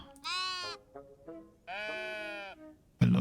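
A sheep in the cozy building game Tiny Glade gives two long, wavering bleats with a few shorter calls between them, clear and close, ending on a sudden loud thud.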